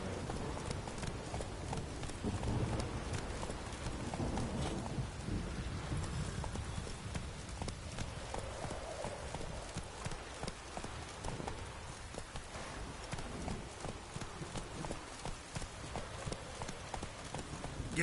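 Horse hooves clip-clopping in a video game, a fast steady run of close, rhythmic hoofbeats continuing throughout at moderate loudness, with a faint voice briefly heard.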